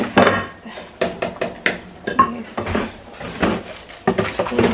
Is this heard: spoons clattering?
yes